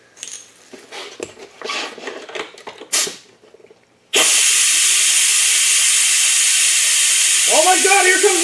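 Compressed air rushes loudly and steadily through a car part after several seconds of clattering handling noises, continuing as a harsh, close, unbroken hiss with a sputtering gurgle near the end; someone speaks during the clip.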